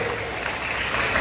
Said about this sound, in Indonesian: bagi tepukan nombor dua